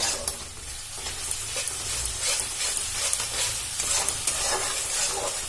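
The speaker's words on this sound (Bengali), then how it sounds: "এটা ভালো করে নেড়ে নেব" Cabbage curry spices sizzle in oil in a pan while a spoon stirs them with sugar, giving a steady frying hiss broken by repeated scraping and clinking strokes, with no talking.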